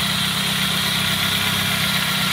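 A warmed-up car engine idles steadily and close by, a continuous low rumble with a constant hum and no voices. The car has a battery that is not charging.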